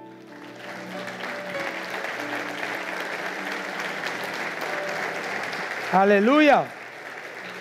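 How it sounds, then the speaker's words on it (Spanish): A church congregation claps together for the Lord, steady applause underneath, then a voice rises loudly over it near the end. "Podemos pararnos y le damos un aplauso al Señor"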